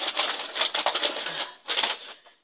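Scissors cutting through fiber fill stuffing, giving close, dry crisp snips and rustles in quick uneven bursts with a brief pause before a final run.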